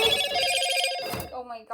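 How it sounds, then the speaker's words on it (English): A phone ringing with a bright repeating electronic ringtone, loud and close, over a noisy room where spinning tops battle, then cutting off as a voice begins to talk. "that's my phone"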